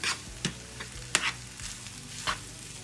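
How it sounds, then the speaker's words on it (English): Cooked rice and other ingredients are stirred together in a pot, with a soft continuous sizzle and several clear spoon scrapes at irregular intervals, close and moderately quiet, with no talking. "right now I'm just stirring all this together"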